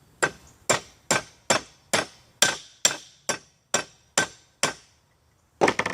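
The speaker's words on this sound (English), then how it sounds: "I know that you can beat the mess out of them with a hammer like we're doing" About eleven evenly spaced hammer blows ring out against a green powder-coated bullet in a durability torture test, each a sharp metallic strike with a short decaying ring, then a brief pause and a final quick flurry of hits.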